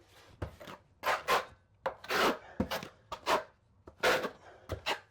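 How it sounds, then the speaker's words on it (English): A trowel scraping thinset mortar across a shower wall for tile, rhythmic gritty swipes repeating about every half second, close and distinct with quiet gaps between strokes. "you always want to use the flat side of the trowel when you're troweling"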